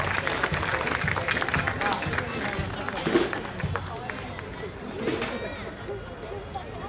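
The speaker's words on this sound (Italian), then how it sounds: "Forza ancora un grosso applauso, bravo Giulio" Applause and clapping from an audience at an outdoor threshing festival with a live music group, a steady crowd roar with hubbub and voices mixed in, fairly close and continuous throughout.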